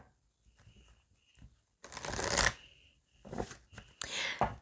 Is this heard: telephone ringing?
no